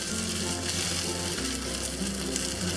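Okra, tofu and mushrooms sear in a hot pan with a steady, close sizzle that holds for a few seconds, with no voices over it.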